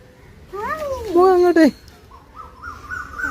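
A crow caws in a home kitchen while irumban puli pickle is made, giving a short run of loud, drawn-out harsh calls close by. Quieter sounds and voices follow.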